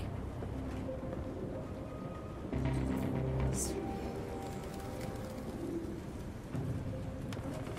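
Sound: pigeons cooing in Detroit: Become Human video game

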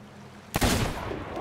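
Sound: distant cannon shots from pirate ships, video game

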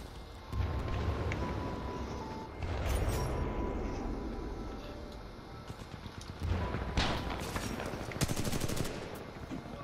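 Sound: sniper gunfire in the video game Titanfall 2

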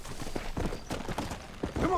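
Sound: horse hooves in Red Dead Redemption Undead Nightmare video game

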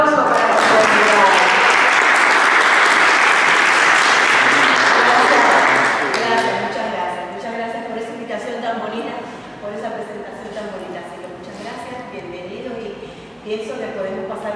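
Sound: applause

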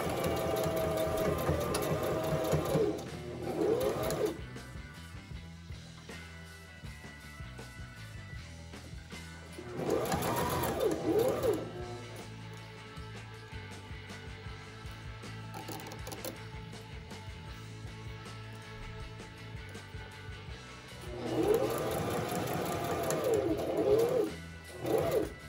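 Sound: sewing machine stitching a zipper with presser foot

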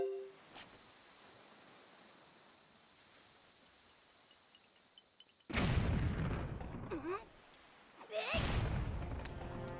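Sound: explosion in Zelda video game

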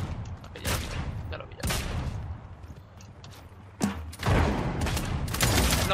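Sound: gunfire in the video game Realm Royale

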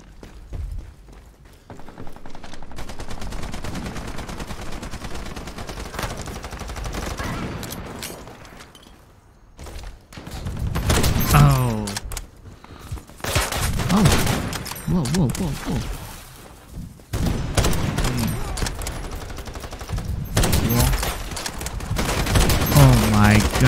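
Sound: sniper rifle gunfire in the video game Ironsight

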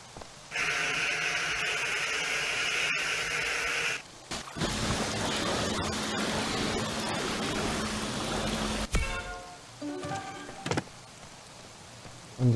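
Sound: washing a car in video game Car Dealership Simulator

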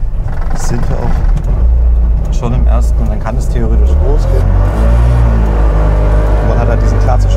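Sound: Trabant 601L car engine driving in first gear

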